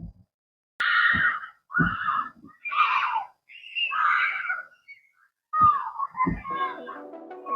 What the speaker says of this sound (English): Okay, so they just screaming because they're swinging really high.